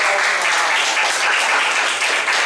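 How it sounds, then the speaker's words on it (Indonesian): Students in a classroom applaud a presenting group, a loud, continuous burst of clapping from many hands that stays even and close from start to finish. "Tepuk tangan untuk kelompok"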